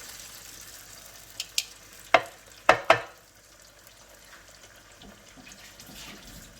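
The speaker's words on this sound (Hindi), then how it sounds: "ये जो ग्रेवी बनाई है ये मैं सारी इसमें डाल दूँगी" Onion-tomato gravy paste is tipped into a pot and stirred for a chicken karhi, giving a few sharp scraping clanks and wet slaps in a quick cluster, then a soft low simmer.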